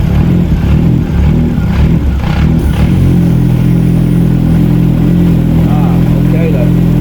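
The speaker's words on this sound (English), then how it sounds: "Let's see if it revs." Engine of an abandoned rally car that has stood unused for years, revved in bursts after hose adjustments: a loud, close, rough mechanical roar that rises and settles into a steady running drone.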